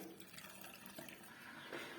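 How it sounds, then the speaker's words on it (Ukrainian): Plain cold water pouring steadily into a jar of salted cucumbers being pickled for winter, a quiet continuous splashing fill with no talk. "І заливаю повністю звичайною холодною водою."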